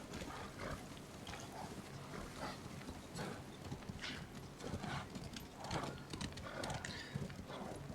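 Horse hooves clip-clop steadily in the video game Ghost of Tsushima, a continuous close trotting rhythm with occasional snorts layered over a busy background.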